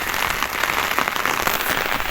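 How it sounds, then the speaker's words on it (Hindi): Steady continuous rain falling in a hilly area, a loud dense patter of drops on surfaces with no break and no voices. "आप देखें मुसलसल बारिश लगी हुई है।"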